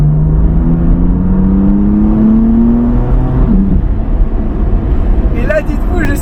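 A BMW M4 engine pulls hard under acceleration, with a rising harmonic whine, loud and close from inside the car, and road roar underneath.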